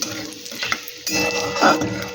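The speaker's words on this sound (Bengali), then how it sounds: "জিরেটা একটু ভালো করে ভেজে নেব" Cumin seeds frying in ghee while being stirred, a close crackling sizzle with a spoon scraping and clinking against the pan in short bursts.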